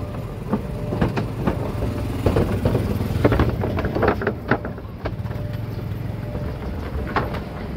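Ordinary and commuter trains running along the railway between Yommarat and Hua Lamphong in Bangkok, with a continuous rolling rumble and rhythmic wheel clacks over rail joints, fairly close.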